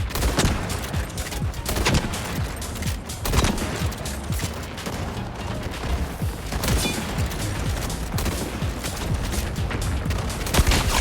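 Dense gunfire in the video game Highguard: rapid automatic bursts and sharp overlapping shots, loud and continuous throughout with brief pauses, layered over game effects.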